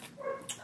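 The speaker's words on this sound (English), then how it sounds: "Sorry about the dog." A dog lets out one very short, faint bark or yip, over almost as soon as it starts, with no talking.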